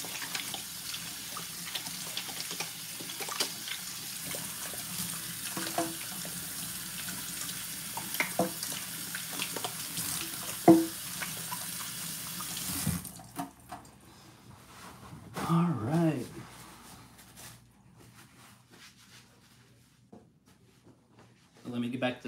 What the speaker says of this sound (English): So I'm gonna rinse off my hands real quick.